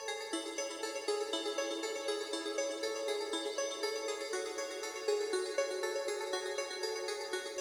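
A sustained synth lead from a song plays steadily and fairly quietly, a dense, bright tone with shifting pitches and no pauses, heard alone without talk.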